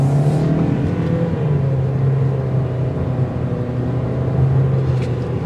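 A 2024 Toyota Corolla LE pulls hard on a rural road, its engine droning steadily and loudly throughout with a constant tone and no clear gear changes.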